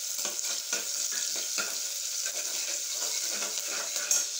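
Whole spices such as cinnamon, cloves and star anise sizzle steadily in hot oil in a pan, with repeated soft scraping strokes of stirring close by and no talking.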